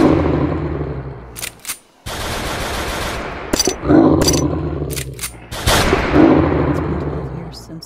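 Heavy bursts of video game gunfire aimed at a boss in The Creepy Syndrome, loud rapid volleys broken by short pauses and sharp single shots, close and booming.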